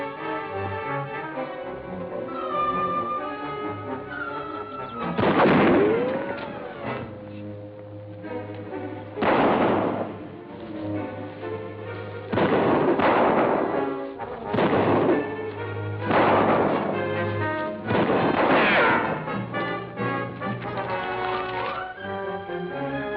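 Gunfire in a 1953 pirate serial battle scene: several loud, sharp volleys of musket or cannon shots burst out at intervals over a low background score, each blast decaying with a brief rumble.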